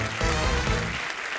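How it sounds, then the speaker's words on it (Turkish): Studio audience applause on a game show, a brief burst of clapping with a low rumble underneath that thins out near the end. "Nursen alkışlarınıza."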